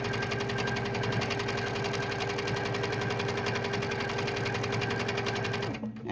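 A sewing machine running steadily during free motion quilting, a fast even mechanical whir and needle chatter held for several seconds before stopping abruptly near the end, close and alone.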